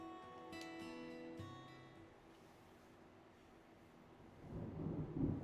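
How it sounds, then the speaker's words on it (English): Low thunder snow rumbling in a video game, a faint ambient drone and tonal hum giving way to a swelling, louder rumble toward the end. "Big black cumulonimbus clouds are in the sky. And that sound. Thunder snow is coming."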